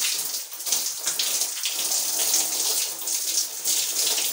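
Hot water gushes steadily into a bathtub while braids are rinsed under it, a dense, continuous, close hiss and splatter with no talking.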